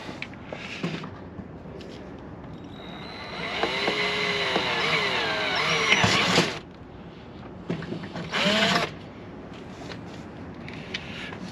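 A cordless drill bores a hole through a car body while fitting LED driving lights, a steady whining run of about three seconds followed by a short second burst, close by.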